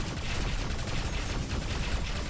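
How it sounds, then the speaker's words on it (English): Ship turrets firing in the space game Rebel Galaxy, a dense continuous barrage of rapid shots forming a loud, unbroken roar throughout. "Wreck it with the turrets!"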